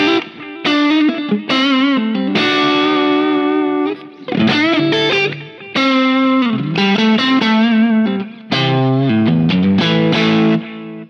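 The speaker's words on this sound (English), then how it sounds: "It's the sound of a great Strat into a Marshall sound," An electric guitar, a Strat-style instrument, runs through a low-gain overdrive pedal for a mildly broken-up, Marshall-like amp tone, played loud in strummed chords and phrases with short pauses between them.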